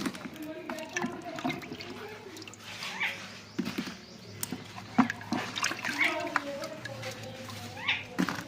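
Peeled raw mangoes being washed in water, with splashing, dripping and trickling as the fruit is handled, close by, while someone talks over it.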